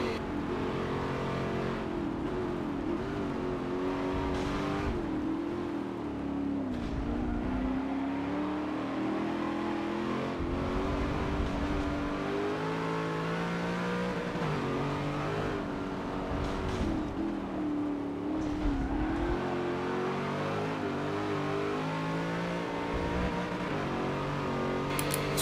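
A V8X Ute race car engine in the Forza 7 racing game drones steadily at high revs, with pitch rising and falling through gear changes and throttle lifts across the whole stretch.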